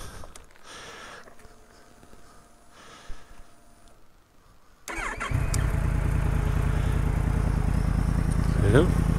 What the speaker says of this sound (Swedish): Ska vi starta upp monstret igen då?